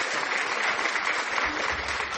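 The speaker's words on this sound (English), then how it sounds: "Thank you guys so much for the applause" Continuous crowd applause opens a podcast, a dense clapping wash with a bandwidth-limited, slightly processed tone and a low rumble creeping in near the end, alone without talk.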